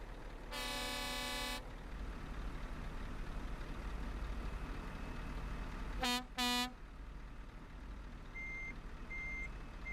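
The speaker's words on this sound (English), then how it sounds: "Beep beep, and then dual horns." A truck in Euro Truck Simulator 2 sounds its horn in a long steady blast, then gives two quick dual-tone toots a few seconds later, each loud and close, over a low engine hum with faint beeps near the end.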